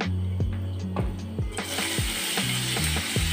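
Chopped onion sizzling in about three tablespoons of hot vegetable oil in a pan, a steady bright hiss that jumps louder partway through, with clicking kitchen-tool taps along the way.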